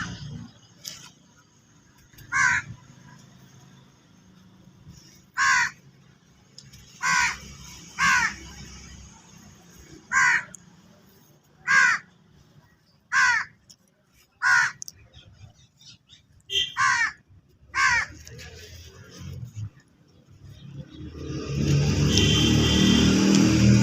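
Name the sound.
crows cawing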